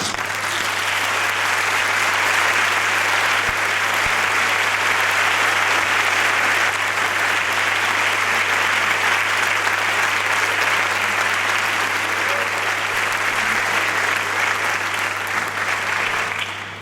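Audience at a school event in Sabadell gives long, loud, sustained applause for the teachers, dense steady clapping continuing for over fifteen seconds with a constant low electrical hum beneath.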